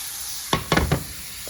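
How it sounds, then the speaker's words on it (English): A steak with a pat of butter laid into a hot pan, giving a few loud bursts of close sizzling and hissing in quick succession, with no talk. "it's time to go ahead and pop our steak in"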